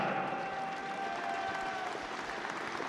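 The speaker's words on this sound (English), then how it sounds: "Captain Alan O'Connor leads Ulster out to a sparse crowd here at Thomond Park" A sparse crowd applauding steadily at Thomond Park as the Ulster rugby team walks out, with a thin, even patter of clapping throughout and a faint distant tone behind it.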